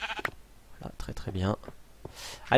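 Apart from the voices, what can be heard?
sheep bleating in the video game Minecraft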